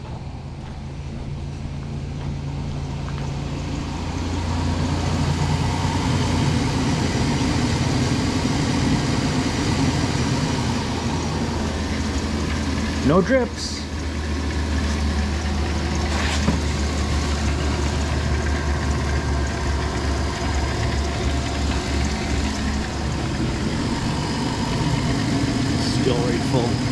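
A 2007 Dodge Caravan's engine idles with a steady low rumble and hum throughout, close by, while people talk intermittently over it and a brief clatter breaks in midway.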